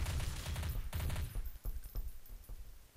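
Gunfire in Counter-Strike: Source, a rapid string of shots up close, then sparser, fainter single reports trailing off.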